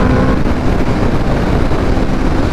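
A 2022 Aprilia RSV4 Factory 1100 with a BT Moto ECU flash tune runs hard on a dyno, a loud, dense, unbroken engine roar filling the space up close.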